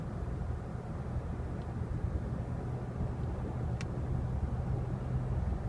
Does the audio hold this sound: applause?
no